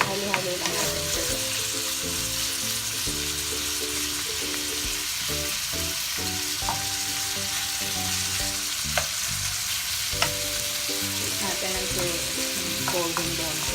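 Pork sizzles steadily in a pan while being stirred, with a constant close frying hiss punctuated by occasional scraping and clinks of the utensil against the pan.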